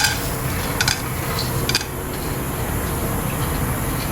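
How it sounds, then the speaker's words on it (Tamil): Roasted gram (pottukadalai) dry-roasting in an empty pan at a roadside-style Puducherry kitchen, a steady broad rustling hiss with a couple of brief metallic clinks of stirring near the start, close and continuous without talk. "இது வந்து பொட்டுக்கடலை இப்போ வறுக்கிறேன்."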